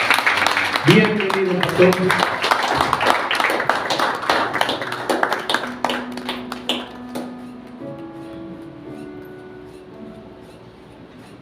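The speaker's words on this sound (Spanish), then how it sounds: "yo quiero que todos lo recibamos con un fuerte y cariñoso aplauso" A church congregation gives the arriving pastor a strong round of applause that tapers off gradually, while someone speaks over the clapping and a sustained musical tone sounds beneath.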